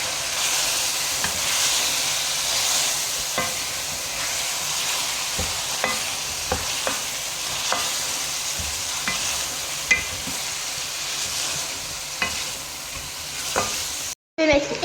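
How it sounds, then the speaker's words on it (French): Tomato concentrate simmers and sizzles in a pot, a steady loud hiss broken by regular scraping strokes of a spoon stirring, cutting off briefly near the end. "je vais remuer et je vais laisser mijoter"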